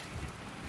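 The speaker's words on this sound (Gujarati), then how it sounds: "હવે તો પવન ચાલુ થવા માંડ્યો હે થોડો થોડો હાવ" Wind picks up on rocky Girnar hill, a brief steady rush of broadband gusting buffeting close to the microphone, with no voices.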